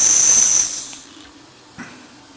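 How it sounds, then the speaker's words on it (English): Steam hisses from a small Bing toy steam engine, a steady close hiss for about half a second before it fades to a low murmur, with a brief soft puff near the end. "Well, looks like we have now enough steam"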